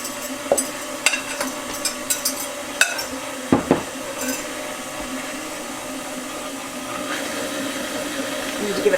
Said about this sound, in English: let it knead the dough for about 6 minutes